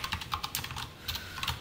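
Rapid keystrokes on a computer keyboard while C code is typed, an uneven run of close, clicky taps with short pauses, with no voices.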